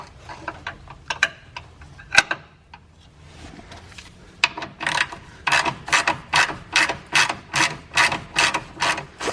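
A hand ratchet loosens the transmission cross member bolts on a Corvette during a manual transmission swap, starting with scattered clicks and settling into a fast, even run of close, crisp ratcheting strokes.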